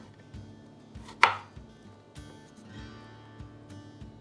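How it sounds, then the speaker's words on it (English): A kitchen knife thinly slices apples on a cutting board, giving a few soft, quiet cuts and taps with one sharper knock against the board partway through. "just going to cut these into just really thin slices"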